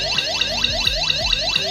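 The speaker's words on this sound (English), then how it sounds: "the alarm comes on, I have to disarm it" An S4 GSM home security system alarm blares loudly on its own, cycling through rapid, repeated rising and falling siren whoops.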